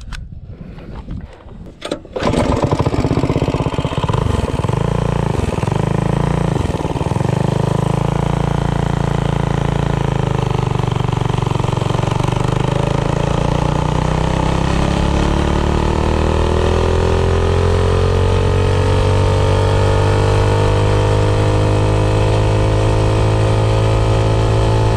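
A Predator 212 small engine fitted with a billet flywheel and a wide coil gap runs hard at high speed, a loud steady drone that climbs and settles after a brief rough start, with no talking.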